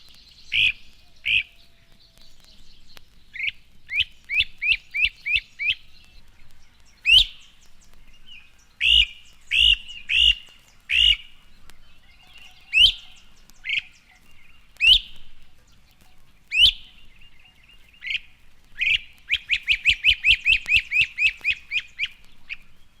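Northern crested flycatcher calling in woodland, loud, close, sharp whistled notes in scattered single calls and quick runs, ending in a rapid rolling series like derisive laughter, no voices.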